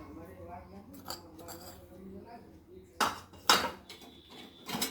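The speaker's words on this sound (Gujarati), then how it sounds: "બટેટા વઘારવા માટે આપણે હવે લસણને આપણે ખાંડી લેશું" Garlic pounded with salt in a kitchen to season potatoes: light clinks, then a few sharp, hard knocks, with a voice faintly present underneath.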